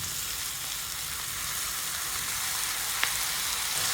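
Pineapple pieces frying in curry in a home kitchen, a loud, steady sizzle with a constant hissing texture and one brief clink partway through, no voices.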